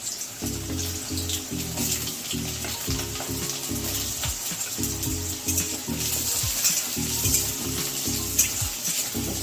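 Potatoes frying in a pan with oil, a steady sizzle throughout, broken by repeated low scraping or stirring strokes in a rough rhythm, close and moderately loud with no voices.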